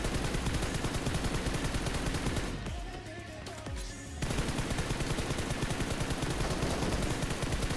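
Rapid hip-fire bursts from a gun in the mobile shooter PUBG Mobile, loud dense volleys that break off into a short quieter pause before the continuous firing resumes.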